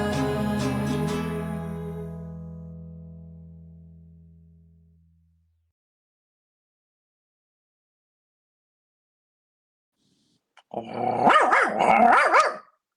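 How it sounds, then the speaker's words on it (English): A pet dog barks and growls in a short burst of several rough, agitated barks near the end, following a long fading musical chord and a stretch of silence. "Sorry about that, guys. That was my dog."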